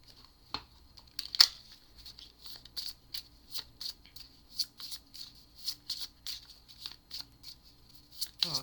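Tarot cards shuffled by hand in a quick run of crisp riffling and slapping bursts, close and fairly regular, with no talking over them.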